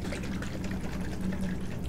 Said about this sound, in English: every time that you use this, shake it up and get the mother